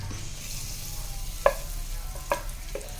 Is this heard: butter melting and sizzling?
yes